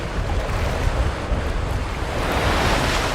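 Strong northeast monsoon wind and waves at Longluan Lake on the Hengchuan Peninsula: loud continuous wind buffeting and rumbling water surge, close and rough throughout, with no voices.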